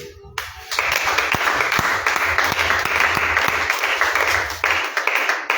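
A church congregation applauding during a Sunday service, a dense, loud, sustained wash of many hands clapping that starts abruptly and runs for several seconds before tapering off at the end.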